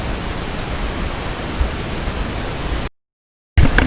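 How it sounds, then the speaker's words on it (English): Wind gusts over an open lake on a kayak camping trip, a loud, steady broadband roar that cuts off briefly and then returns. "You can probably hear the wind pick up."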